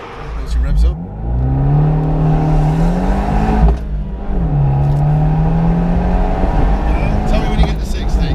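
An Abarth 595 engine revs hard and steadily at close range, its pitch climbing, dipping briefly and climbing again as the car accelerates through the gears, with loud whooshing wind noise throughout.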